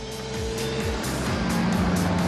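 A vintage supercharged Mercedes 710 SS or 720 SSK engine roars loudly and steadily nearby, with a rising, rhythmic mechanical drone that holds throughout.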